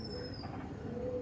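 Pet pigeons, a prized breeding pair of black-eyed golden, kaladana and reddana birds, give soft low cooing in a steady murmur, close and quiet, with a faint high whistle running above.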